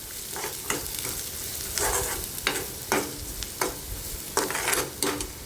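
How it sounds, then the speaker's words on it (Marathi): Masala with a little coriander sautéing in oil for a Marathi egg curry, a continuous close sizzle broken by regular scraping strokes of a spatula against the pan, no talking. "मसाले तेलामध्ये व्यवस्थित परतून घ्यायचे"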